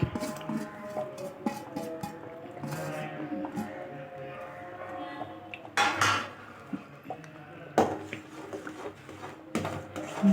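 Semolina being stirred in a pan for pineapple kesari, with a metal spoon scraping and knocking against the vessel in irregular bursts and clatters, faint talk in the background.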